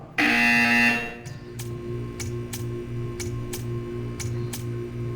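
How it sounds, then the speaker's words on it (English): A loud electronic buzzer in the video game Portal 2 blares for about a second, followed by a series of short, evenly spaced ticks over a low steady hum. "You will hear a buzzer."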